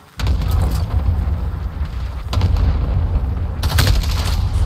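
Sustained gunfire from a Call of Duty Modern Warfare hardcore team deathmatch on the Backlot map, loud and continuous with dense bursts and booming shots throughout.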